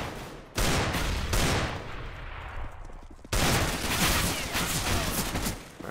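Loud, sustained automatic rifle fire from an M4 in a competitive shooter video game, two long bursts separated by a brief lull, dense and close.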